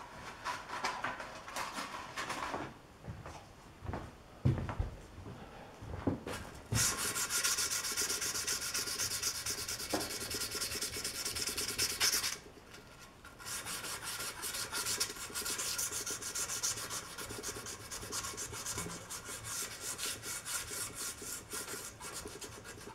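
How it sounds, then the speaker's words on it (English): Sandpaper rubs back and forth over an edge to smooth it, a steady raspy scraping in long continuous strokes with a few brief pauses, close and fairly loud. "Get a little piece of sandpaper and just kind of make sure we have nice smooth edges here."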